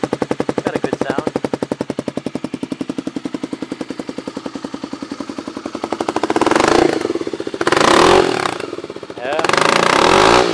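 A Kawasaki KLX250SF motorcycle engine idles with a steady rapid putter, then is revved hard in three loud bursts near the end, heard up close.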